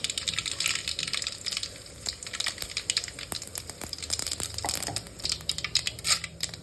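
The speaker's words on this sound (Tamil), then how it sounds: "எண்ணெய் காஞ்சிருச்சு கடுகு போட்டுக்கலாம்" Mustard seeds drop into hot oil in a pan for a lentil and snake gourd kootu, bringing close sizzling with scattered sharp pops and crackles that come irregularly.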